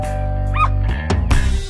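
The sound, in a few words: baby imitating a dog bark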